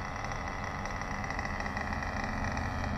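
An engine idling between throttle runs during a Tessmann break-in, a steady low mechanical drone with a slight even flutter, close and continuous, no talking.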